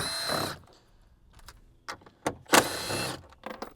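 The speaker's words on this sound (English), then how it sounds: "You can use a socket or an impact drill like I'm using." Two loud bursts of an impact drill whirring as it spins out 10mm bolts on a Tesla Model Y, separated by quiet clicks and handling noises.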